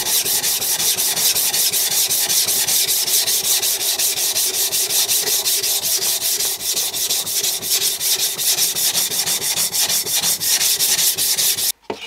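Steel knife blade stroked repeatedly over a Naniwa Advance whetstone worked into a slurry, a steady, fast rhythmic wet scraping close to the microphone, continuous and loud with no voices.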